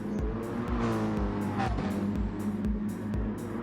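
Race cars roar around Mount Panorama in a racing video game during an endurance race, with a Beetle, a Mercedes-Benz and a McLaren in the field. Engines rise and fall steadily as cars pass, with faint tire squeal.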